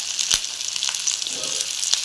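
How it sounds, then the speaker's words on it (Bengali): Potatoes and chili frying in a pan for a spinach dish, giving a steady close hiss of hot oil punctuated by a few sharp crackles and pops. "আলুগুলো লঙ্কাটা দিয়ে দিলাম, দিয়ে আমি ভালো করে ভেজে নেবো।"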